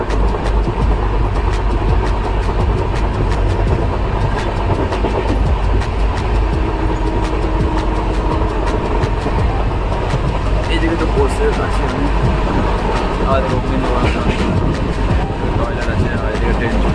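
The 12041 Shatabdi Express runs from Howrah to New Jalpaiguri with a loud, continuous rumble and rhythmic rattle of the carriages at speed. Murmuring voices sit under the noise.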